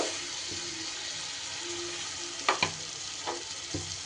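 Ground spice paste frying in a pan for a snake gourd curry, a steady soft sizzle with a few sharp scrapes and clinks of stirring near the middle and toward the end.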